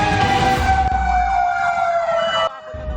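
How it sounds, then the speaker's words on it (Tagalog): A loud fire truck siren wails nearby, responding to a house fire in Barangay Tandang Sora, Quezon City, its tone sliding and warbling over a rumbling engine, then abruptly cuts off. "Sunod-sunod ang pagresponde ng mga fire truck sa bahaging ito ng Barangay Tandang Sora"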